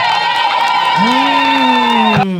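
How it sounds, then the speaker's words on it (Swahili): An excited crowd at a Swahili gospel album launch claps and cheers, with sustained warbling, tonal voices that may be ululation rising over the noise. The sound is loud and continuous, then cut off abruptly near the end. "Makofi na vigelegele kwao tafadhali."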